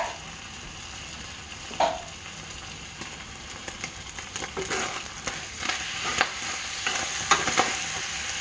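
Chili being stirred in a frying pan for chili cheese dogs, a steady sizzle with scraping spoon strokes building in intensity, close and alone without talk.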